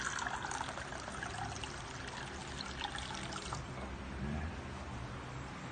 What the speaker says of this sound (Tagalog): Maglagay tayo ng tubig guys sa isang bowl.